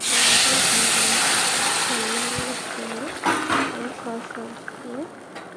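Vegetables fry in hot oil in a heated kadai, giving a loud, steady sizzling hiss that fades slightly over time, while a voice talks over it.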